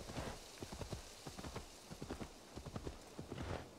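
Rapid hoofbeats of a galloping horse in the video game Assassin's Creed Valhalla, a steady clip-clop rhythm, close and fairly clear over a soft, hissy background.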